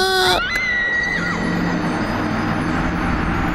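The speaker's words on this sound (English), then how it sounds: "I hate our Wilhelm scream." Stock Wilhelm scream effect in a video game, a short shrill falling cry at the very start, then a steady broadband rushing noise that stays loud for the remaining few seconds.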